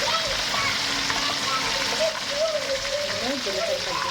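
Oil sizzles and crackles steadily in a pan, a close, continuous frying sound with a voice talking over it.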